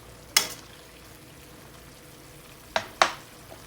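Pork belly adobo simmers in a pan with a faint, steady bubbling bed, broken by three sharp scrapes of a utensil stirring, one early and two close together near the end.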